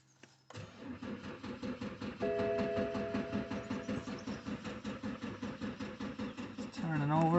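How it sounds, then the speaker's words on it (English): A car engine cranks over and over on a battery booster in a steady, rhythmic churn that never fires into a run, with a voice briefly heard near the end. "It's turning over. No starting"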